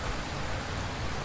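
Steady rain in the Roblox game Attack on Titan, a dense, even wash of falling water with no breaks, fairly soft and heard alone.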